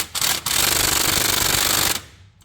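Pneumatic impact gun hammering on an intake manifold bolt of a Chevy 5.7 V8 in a 1990 C1500 pickup, a loud rapid rattling burst lasting about two seconds after a brief blip, then stopping.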